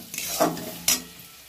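Fried potatoes being stir-fried with a crab mixture in a pan, two distinct scraping stirs of a spatula against the pan over a low sizzle, close and without voices.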